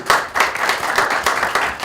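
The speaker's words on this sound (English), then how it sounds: "Let's give Matthew Hunt a big round of applause." An audience at an email marketing talk gives a speaker a big round of applause, a loud, close burst of dense clapping that holds steady throughout.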